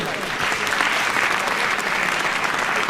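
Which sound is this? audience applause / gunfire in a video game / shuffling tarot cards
audience applause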